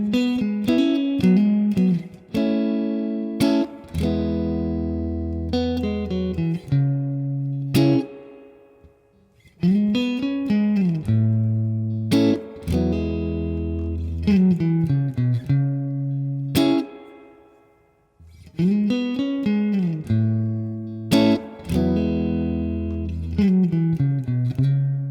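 An electric guitar plays the first verse of a song, with clean arpeggiated chords and bass notes ringing in a repeating pattern, alone.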